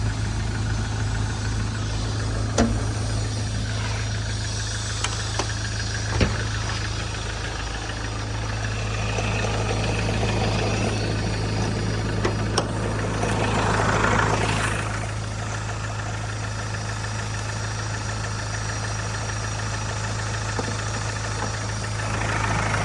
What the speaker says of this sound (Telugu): ఇంకా బ్యానెట్ ఓపెన్ చేసి ఇంజిన్ చూపిస్తానండి.